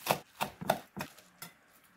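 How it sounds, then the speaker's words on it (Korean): A knife slices green onions diagonally on a cutting board while broccoli kimchi is prepared, giving about six quick, crisp, close chopping taps in a loose rhythm before fading quieter. "약간 이렇게 어비슷하게 사선으로 썰어줍니다"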